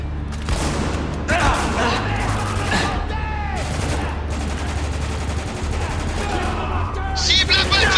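Gunfire in the video game Spec Ops: The Line crackles in rapid, dense bursts and booms, with soldiers' voices shouting over the constant firefight.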